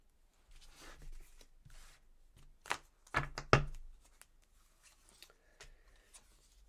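A deck of tarot cards being cut by hand, heard as a few soft shuffles and rubs followed by a cluster of sharp card slaps and taps, close and fairly quiet in a still room.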